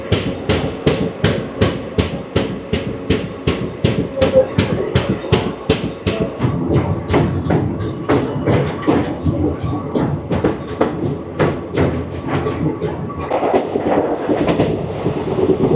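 The Paharia Express pulls out of Mecheda station at night, its wheels clacking over rail joints in a fast, steady rhythm that stays loud and close throughout.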